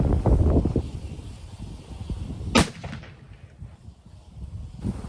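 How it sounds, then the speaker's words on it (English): A Winchester Model 70 rifle in .264 Win Mag fires a Nosler load at the range. One sharp, loud report comes midway through steady wind rumble, which keeps blowing after the shot. "we're going to shoot two with the Nosler first"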